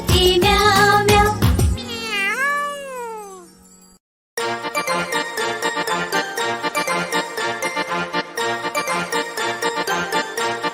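Cartoon-like sung meows in a Hindi children's rhyme about a cat, a voice imitating a cat with sliding pitched notes, followed by a bright, rhythmic jingly musical backing.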